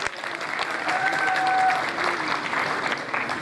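Audience applause for Arshad Mehmood Butt at a housing society annual general meeting, a steady wash of clapping from a crowd heard throughout at moderate volume.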